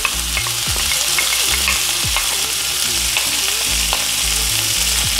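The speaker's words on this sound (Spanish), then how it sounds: "Vamos a agregar el tomate." Tomato goes into a frying pan of Veracruz-style fish sauce and is stirred, bringing a steady sizzle with repeated scraping strokes and low thuds throughout, close and fairly loud, with no voices.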